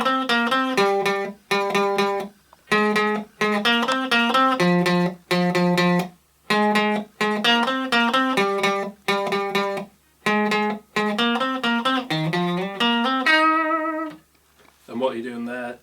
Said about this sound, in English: So it starts with this intro, which slowly sounds like this.